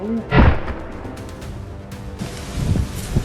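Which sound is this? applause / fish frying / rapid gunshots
rapid gunshots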